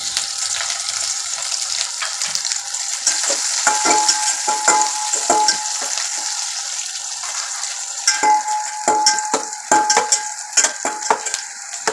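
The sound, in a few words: onions frying and being stirred in oil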